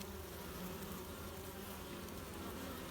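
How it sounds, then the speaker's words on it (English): Faint, steady buzzing of many bees swarming around a hive entrance in early spring, a continuous insect hum with no voices. "watch the flood of bees come in."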